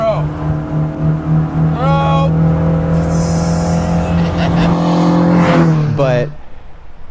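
Modified Mini race car revving hard and accelerating through a corner, a loud, steady engine note that rises and falls with gear changes before cutting off abruptly near the end, with a brief spoken word over it.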